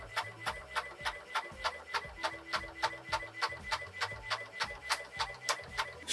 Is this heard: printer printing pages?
yes